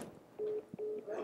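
A phone is dialed, giving three short, clear keypad tones in a row, each lasting a fraction of a second, over a quiet background.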